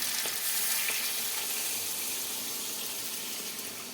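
Chicken fries with a spice paste in a pan, giving a soft, steady sizzle and hiss with faint occasional stirring scrapes, fairly quiet and fading slightly toward the end.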